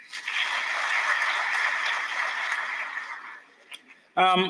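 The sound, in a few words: applause for the Deputy Speaker at book launch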